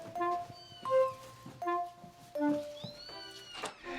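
Kittens meow in a series of short, plaintive cries, about five or six distinct calls spaced irregularly, close by and fairly clear over a quiet background.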